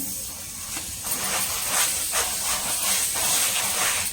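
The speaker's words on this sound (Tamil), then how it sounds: "பட்டர் போட்டு விட்டு அப்படியே திருப்பி போடுவோம்." Butter sizzling on a chapati in a hot pan, a steady, close, bright hiss that swells slightly and continues throughout.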